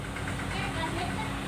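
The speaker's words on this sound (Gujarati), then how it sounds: "જો ટ્રેક્ટર આવ્યું ભરતો લઈને," A tractor arrives hauling a load of crop, its engine a steady, low rumbling drone that holds at an even level throughout the short stretch, with no clear speech over it.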